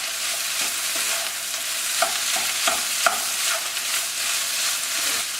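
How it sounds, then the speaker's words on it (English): Cooked egg is stirred into fried rice in a hot pan: a loud, continuous sizzle with soft spatula scrapes and small taps scattered throughout, heard close up with no speech. "break it up and mix it into your rice"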